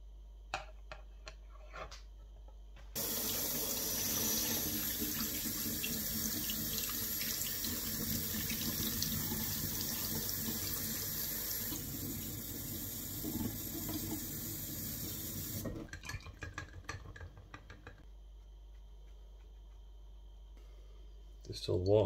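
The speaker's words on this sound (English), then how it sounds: "Distilled water." Distilled water runs from a tap in a steady, close rush for about thirteen seconds, used for cleaning vinyl records, with faint handling clicks before and after.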